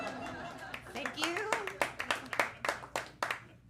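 An audience at a stand-up comedy show claps in a short burst of separate, fairly close hand claps. It is sparse and uneven, with a voice talking over the start.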